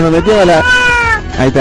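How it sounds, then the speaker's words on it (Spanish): A cat meows in a cave on a hillside, several drawn-out, close calls that rise and fall, heard alongside people speaking. "Ese es un gato"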